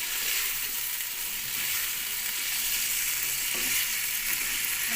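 Food for Chinese rice frying in a pan, a steady broadband sizzle held loud and unbroken throughout, with a few faint stirring knocks underneath and no talking.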